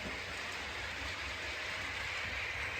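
A model railway train runs steadily along its track, giving a soft continuous rolling rumble with a faint rhythmic clickety-clack, quiet and unbroken with no voices.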